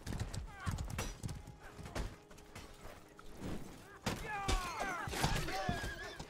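A horse clip-clops and whinnies in the medieval combat game Mordhau, hooves thudding irregularly amid battle clangs and thumps, with a voice talking over the action.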